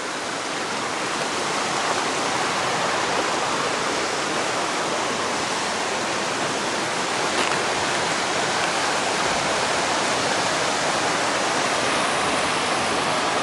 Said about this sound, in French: Le débit qu'on voit là, c'est le débit de la cascade